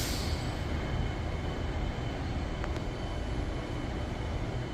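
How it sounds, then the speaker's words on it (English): Commuter train pulling out of Perth Station, a steady broadband rumble and roar of the moving train and wheels, fairly loud and unbroken, with a brief high squeal partway through and no voices. "There goes the train."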